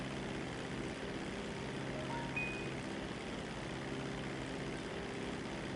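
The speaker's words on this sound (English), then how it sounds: "fly my plane to the sea" Steady propeller airplane engine drone while flying over the sea in GTA V Online, a continuous even hum heard alone with no talk.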